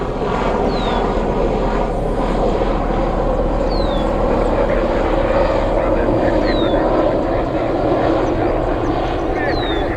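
Police aircraft circles over an airfield, a loud, steady propeller drone with a constant low rumble, while a voice talks throughout.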